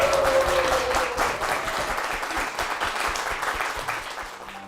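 A church congregation gives applause in blessing for a deaconess, a full round of clapping that starts strong and gradually eases off toward the end.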